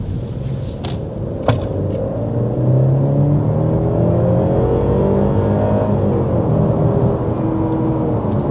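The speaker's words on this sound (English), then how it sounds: "there's an acceleration up to 60 miles per hour" A 2024 Mercedes E350 E-Class under hard acceleration up to 60 mph: a steady, loud engine drone and road rumble that climbs through the gears, heard from inside the cabin with no talking.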